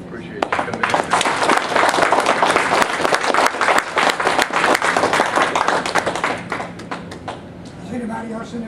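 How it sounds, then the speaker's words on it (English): A room full of people gives a warm round of applause for sheriff candidate Mark Garber at a community meeting, sustained close clapping with crowd murmur that tapers near the end as voices take over. "We certainly owe him a round of applause"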